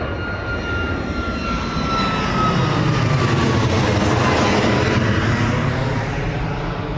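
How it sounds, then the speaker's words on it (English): A Boeing 737 jet making a derated takeoff at Bristol Airport, a loud steady engine roar with a thin whining tone that holds and slowly shifts as the aircraft passes, no talk over it. "Welcome back to another Bristol Airport live stream of our derated takeoff from the Boeing 737 2E."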